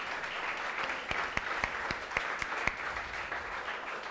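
A church congregation applauds during a sermon, a faint, even wash of clapping with a few sharper individual claps standing out, fairly distant and without talk.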